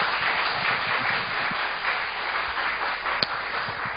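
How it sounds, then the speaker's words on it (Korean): A church congregation gives the pastor a sustained round of applause, a dense, even clapping that continues at steady loudness throughout, with one sharper clap standing out near the end. "우리 큰 박수로 목사님 맞이하겠습니다"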